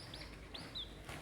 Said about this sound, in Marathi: ही आपली गावरान गावठी कोंबडी आहे